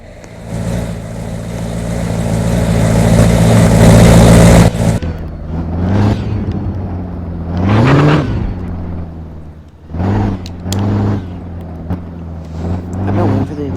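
Brand-new race cars with engines running, a steady loud roar that cuts off, then several rising and falling revs in short bursts, close by and with no talking.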